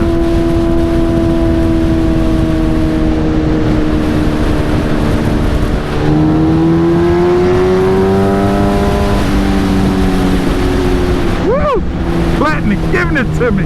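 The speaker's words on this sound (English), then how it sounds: "If this GoPro can keep out all this pipe sound" A Suzuki Hayabusa motorcycle with loud exhaust pipes drones and revs continuously up close, its pitch rising and falling as the engine climbs and eases off, under steady wind noise.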